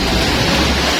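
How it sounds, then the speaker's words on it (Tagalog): Large sea waves surging along the shore at Anda, Bohol under an overcast, drizzly sky, a steady loud broadband roar of surf with no pause and no voices. "lalaki ng alon"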